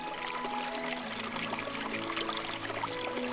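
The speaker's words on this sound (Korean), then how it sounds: "청량한 물소리가 나는 곳을 따라가 보면 마치 깊은 산속에나 있을 법한 숲속 계곡이 흐르고 있다" Clear water of a forest stream in an island wetland flows in a steady, dense rush, close and continuous with no break, no voices over it.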